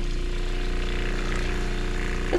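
A low, steady household water pump motor hum runs continuously at modest volume, a constant even drone with faint rattle and no voices.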